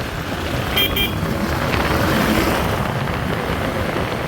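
A vehicle overtakes an auto-rickshaw on a road near Montola, Tangail. Loud, steady engine and road roar fills the scene, with a brief horn toot near the start.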